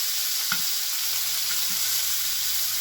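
Rolled braciole fry and brown in a hot pan, a loud, steady, close hiss of sizzling oil throughout, broken by a brief clunk as a piece is turned.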